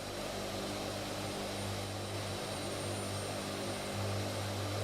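Engines of a Hercules aircraft heard from outside, a continuous deep propeller drone with a low steady hum that holds at the same level throughout, distant but powerful, with no voices.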